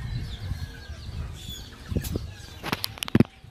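A racing pigeon flapping its wings, a brief burst of sharp close wingbeats near the end after quieter rustling, with no talk.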